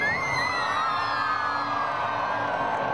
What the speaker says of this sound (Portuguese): A cada manobra, um grito de alegria.